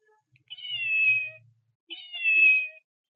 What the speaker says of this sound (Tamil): இந்த மாதிரி சாஃப்ட் ஐஸ்ல சவுண்டோட இருக்கக்கூடிய பூனைக்குட்டி எல்லாருக்கும் பிடிக்கும்